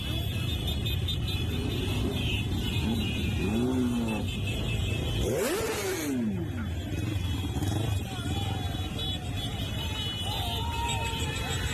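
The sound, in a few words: motorcycle rally passing by, engines revving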